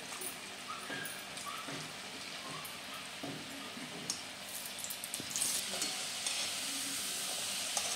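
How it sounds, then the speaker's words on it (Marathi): Kodbole, rings of dough, fry in hot oil with a soft bubbling sizzle and a few stirring clinks, quiet at first and growing more active toward the end, with no voices. "आता तेल तापलेलं आहे, तर आपण तळून घेऊ"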